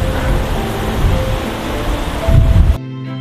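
The Dourbie river rushes after a violent storm, a loud, dense broadband roar of flowing water heard close up that swells briefly before cutting off abruptly near the end.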